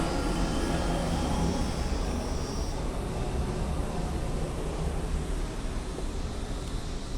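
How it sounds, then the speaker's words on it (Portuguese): An airplane passes overhead, producing a broad, steady rumbling roar that holds for several seconds and then eases slightly toward the end, with no talking. "Deixa eu passar um avião aqui."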